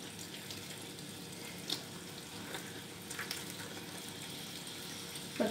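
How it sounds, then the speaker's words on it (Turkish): Börek frying in a pan, a steady, close sizzle and crackle that holds at an even level throughout, with a couple of faint clinks. "Lütfen düzgün bir tava seçin. Güzelce kızarsın."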